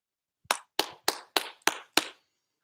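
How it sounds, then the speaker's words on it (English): Six sharp, evenly spaced claps ring out close by, a brief round of applause at a kids' PE class, followed by silence. "Let's go, round of applause."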